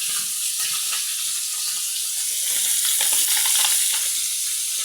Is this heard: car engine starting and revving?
no